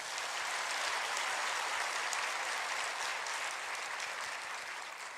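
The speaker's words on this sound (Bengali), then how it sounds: "আমি চাইবো প্রত্যেক ট্যালেন্টেড ছেলে মেয়ের মা এবং বাবাদের জন্য একটা হাততালি সবাই মিলে একবার আমরা দিই।" Audience at a ceremony applauding the parents of talented children, a dense, sustained roar of many hands clapping together, fairly close and slowly tapering toward the end.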